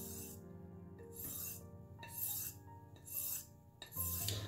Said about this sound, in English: we're polishing that blade as well.